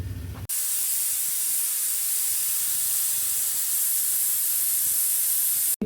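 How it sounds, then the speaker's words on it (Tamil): Pressure cooker whistling with a weight ball on the lid while cooking a pumpkin kootu, a loud steady hiss of escaping steam that holds for several seconds before cutting off abruptly. "மேலே வெயிட் பால் போட்டுட்டு ஒரு 3 விசில் வரட்டும்"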